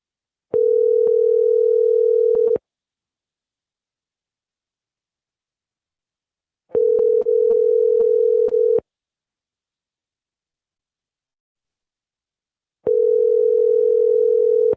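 A telephone dial tone sounds after a call is hung up on a live broadcast, three steady identical beeps of about two seconds each, separated by silent gaps.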